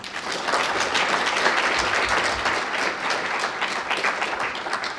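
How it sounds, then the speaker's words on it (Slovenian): A hall audience at a university student awards ceremony for Prešeren prizes claps steadily and fairly loudly for about five seconds, a dense, even wash of many hands without a pause. "Lahko še enkrat zaploskamo."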